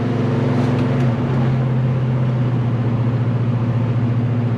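A 1970 Chevelle V8 fitted with a Holley Double Pumper carburetor idles at light throttle, a loud, steady, close engine rumble with an even pulsing throb and no voices.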